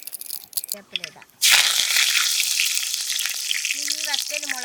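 Curry leaves hit hot coconut oil in a cheena chatti for kappa thalichathu, and a loud, steady, crackling sizzle bursts up suddenly and keeps going, with a voice speaking briefly over it near the end.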